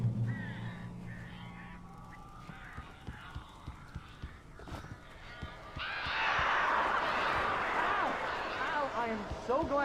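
A flock of crows in the Alan Wake game, first heard as sparse sounds under a low voice, then swelling into a loud, dense burst of cawing and flapping noise.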